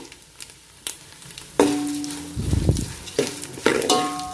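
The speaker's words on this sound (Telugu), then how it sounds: "పల్లీలు మంచి రంగులోకి వచ్చేంత వరకు పల్లీలతో పాటు పుట్నాల పప్పును కూడా మనం వేయించుకుంటే" Peanuts and roasted gram (putnala pappu) roasting together in a pan, heard as close, intermittent scraping and stirring clatter with a brief dry sizzle and rattle, no voices.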